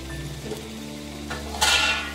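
Potatoes dropped into a pan of sizzling spiced meat coloured red with Kashmiri chillies, a soft steady sizzle with a faint clink, then a sharp loud burst of hissing as they land near the end.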